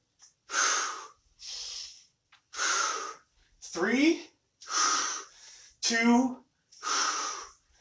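Heavy, forceful exhalations alternate with a trainer's speech during a dynamic training-partner workout on a mat, breaths and short spoken counts coming in quick bursts close to the microphone.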